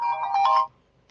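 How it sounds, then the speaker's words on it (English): A phone alarm rings loudly and close for a little over half a second in a rapid warbling electronic burst, then stops, leaving quiet with a brief faint blip at the very end. "That's the alarm."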